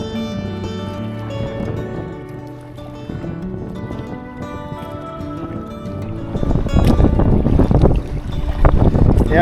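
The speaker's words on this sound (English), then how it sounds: "it's such a chop that I'm trying to like stab my paddle in the top of the waves" A sea kayak is paddled through choppy waves in gusty wind, with low buffeting wind noise building into loud splashing surges of water near the end.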